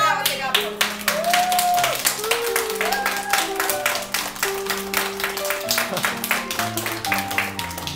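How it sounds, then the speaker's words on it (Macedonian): Children clapping in a classroom, a quick run of sharp, rhythmic claps lasting several seconds, with voices and tonal sounds heard underneath. "Аплауз сега, аплауз."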